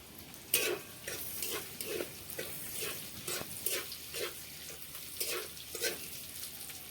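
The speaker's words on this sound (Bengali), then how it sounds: "পেঁয়াজগুলোকে এরপর ভালো মতো ভেজে নিতে হবে।" Chopped onions fry in hot oil in a home kitchen, a low sizzle under repeated rhythmic stirring and scraping strokes of a spatula against the pan, close and fairly quiet, with no talking.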